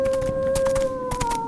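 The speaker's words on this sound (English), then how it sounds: "Oh, it's a dog." A dog in the video game Vampire the Masquerade Bloodlines lets out a long, steady, loud howl that wavers slightly in pitch over a rough background rumble.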